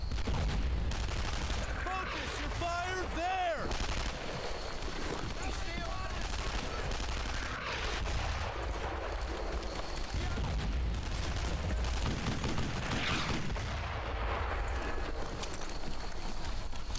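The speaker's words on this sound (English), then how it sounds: "Oh, we have mortars on us too." Mortar fire in the war game Brothers in Arms: Earned in Blood, a rumbling barrage of explosions and heavy gunfire that runs continuously for seventeen seconds at a steady, fairly dense level, with voices heard in the clip.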